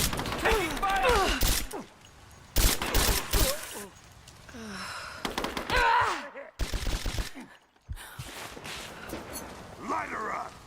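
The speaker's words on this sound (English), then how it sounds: "Taking fire!" Bursts of gunfire in Rise of the Tomb Raider, with loud sharp volleys separated by short pauses, mixed with close gasps and breathing from the character and some shouted voices.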